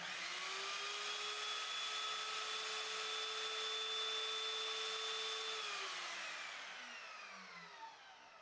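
A small Evolution R210CMS compound miter saw runs up to a steady high-pitched motor whine, loud and close, then spins down with a falling tone at the end, with no talking.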